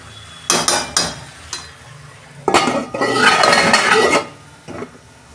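A metal lid is set onto a pot of ridge gourd and pea dal, giving several sharp metallic clanks and rattles, then a longer scraping clatter as it settles, close and loud with no voices.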